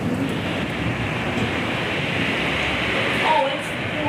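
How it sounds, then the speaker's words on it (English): Heavy rain pours steadily during a Caribbean Sea thunderstorm, a dense, loud hiss of water that continues without pause, with faint voices briefly under it near the end. "Oh, it's pouring."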